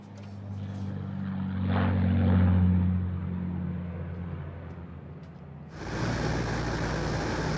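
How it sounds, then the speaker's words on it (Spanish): A propeller airplane carrying Kennedy, engine droning loud and rising during takeoff, then easing off before a sudden broadband roar cuts in, with no voices. "El Su-Su Black, el avión de Kennedy, tuvo un despegue perfecto."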